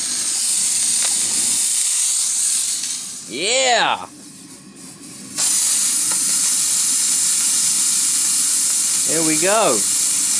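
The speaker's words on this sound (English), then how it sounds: "We're steaming alright." A repaired Hoover steam cleaner releases a loud, continuous hiss of steam up close, which stops briefly partway through and then resumes. Short spoken exclamations are heard over it.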